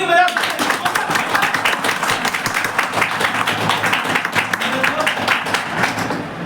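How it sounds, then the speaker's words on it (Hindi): Crowd at a Hindi-speaking rally or seminar breaking into loud, sustained applause, dense clapping filling the whole stretch at steady volume with crowd voices mixed in. "एक बार जोरदार ताली की बजाय"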